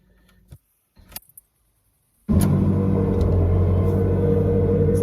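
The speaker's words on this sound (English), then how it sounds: "Let's fire it up. Let's see if it's worked." A Ferrari engine catches after a few faint clicks and jangles in a quiet cabin, then settles into a loud, steady, deep rumbling idle close by.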